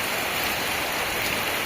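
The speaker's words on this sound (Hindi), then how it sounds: "तो ये देखिए कितनी ज़बरदस्त बारिश हो रही है।" Heavy rain pours outside as a dense, even hiss of falling water, loud and unbroken until it cuts off abruptly at the very end.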